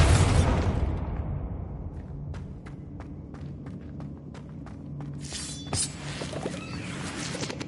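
Bombarda spell from the game Hogwarts Legacy: a loud, deep booming blast opens the moment and rumbles away over the first second, followed by scattered crackling debris pops and a low sustained hum.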